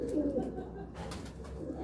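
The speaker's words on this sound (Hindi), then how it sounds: "ये टाली वाला कबूतर है, वो पहले वाला नहीं, ये टाली वाला कबूतर है" Tali breeder pigeon cooing close by, a short low throaty coo near the start followed by soft murmuring.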